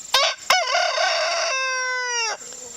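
A rooster crows once, loud and close, a long drawn-out call following two short clucks from nearby chickens, all in a quiet farmyard early in the morning.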